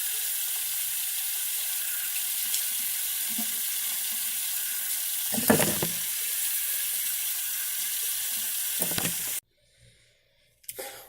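Tap water runs in a steady hiss, with a couple of clattering bumps along the way, then cuts off abruptly into near silence with faint rustles afterward.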